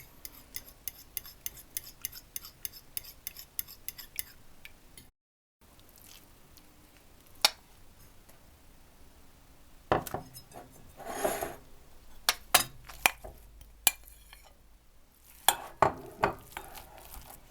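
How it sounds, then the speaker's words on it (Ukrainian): A fork beating eggs in a bowl, fast regular clinking strokes at first, then after a short gap louder scattered knocks and taps of utensils against dishes, close and alone without talk. "Яйця розколотила виделкою"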